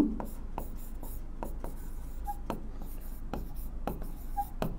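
A pen scratches out a sentence during a live class, a steady run of short strokes and taps over a constant background hum, with faint talk mixed in.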